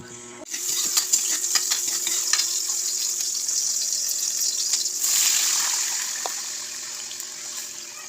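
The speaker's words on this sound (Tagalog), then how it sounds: "Ito na siya guys, kumukulo na siya." Steady bubbling and sizzling from a pot of mussel sauce simmering on the stove, with occasional soft clinks, continuous and fairly close.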